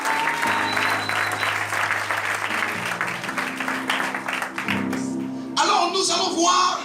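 A church congregation applauds to acclaim the king during a Sunday morning service, sustained clapping and crowd noise over music, swelling louder near the end.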